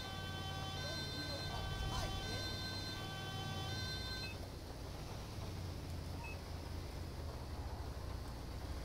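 A steady wailing ambulance siren in GTA 5 sounds over a constant engine-like rumble for the first few seconds, then fades out, leaving only the droning background.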